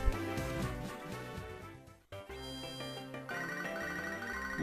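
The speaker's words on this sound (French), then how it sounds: "On reçoit un coup de téléphone du professeur Or." In Pokémon SoulSilver, a chiptune phone ring plays as an incoming call arrives, with bright repeating electronic tones over the game's background music, a brief dropout midway, then the ringing pattern resumes, moderately quiet.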